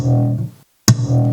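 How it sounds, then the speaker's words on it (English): A sampled cupboard sound: a sustained, tonal resonant hum pitched around a flat E, briefly cutting to silence, then a sharp knock and the hum resuming. "I was listening to the cupboard sample,"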